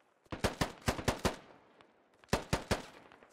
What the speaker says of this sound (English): they're, again, under light machine gun fire constantly in this field